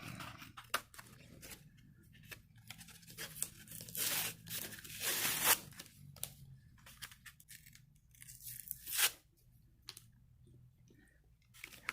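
Someone opens the packaging of a new X-Acto blade: scattered clicks, crinkles and short tearing bursts, close and quiet, with a louder rip midway and no speech.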